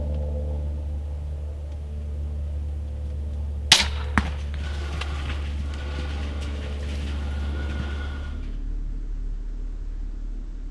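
An arrow is loosed from a bow during a whitetail deer hunt, giving one sharp snap and a quick second crack over a steady low outdoor rumble that fades out near the end.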